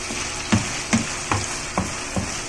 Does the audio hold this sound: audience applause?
no